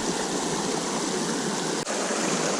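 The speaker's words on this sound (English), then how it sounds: "There's a spring coming down the hill up there." Spring water rushes down a hillside into a trout stream at Bankston Park, a constant, full, near hiss of flowing water with only a momentary dip.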